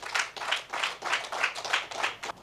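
Applause from an assembled audience honouring two elders of the Fon community, a faint, steady patter of clapping that swells and dips in waves.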